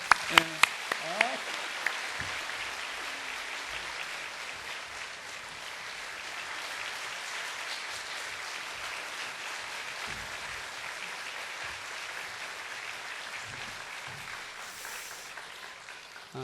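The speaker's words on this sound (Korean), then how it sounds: "우리 뜨겁게 박수로 격려합시다." A church congregation gives warm encouraging applause to a pair of twins, a long, soft wash of clapping heard from some distance, with a few sharper claps at the start and voices mixed in.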